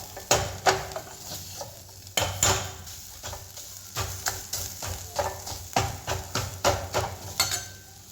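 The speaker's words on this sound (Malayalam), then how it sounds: "അത് നന്നായിട്ട് മാഷ് ചെയ്തിട്ട് ഇതിനകത്തേക്ക് ചേർക്കുക ഏകദേശം നന്നായിട്ടിട്ട് ഒന്ന് ഉടച്ചെടുക്കുക" Boiled potatoes being mashed in a pan for chicken kilikudu, a steady run of soft thuds and scraping taps from a utensil against the pan, close and fairly quiet.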